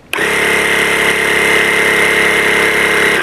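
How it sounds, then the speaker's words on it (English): A portable air compressor for inflating car tires kicks on abruptly and runs loud and steady, a dense droning buzz close to the microphone with no voices over it. "So here's my air compressor."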